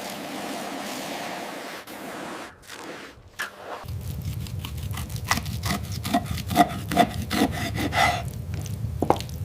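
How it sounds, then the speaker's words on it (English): Scrubbing a surface, apparently underwater or in a wet setting: after a few scattered knocks, a steady rasping rub starts and repeats in uneven strokes over a low rumbling background. "Okay, I'll start scrubbing."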